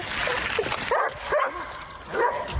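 A very vocal dog outdoors gives a run of yips, whimpers and short barks, several close bursts spaced unevenly, with faint ambient noise behind.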